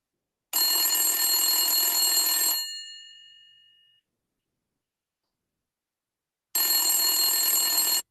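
An electronic telephone ring sounds in a long, loud trilling burst that fades out, then after a few seconds of silence a second identical ring starts, with no voices around it.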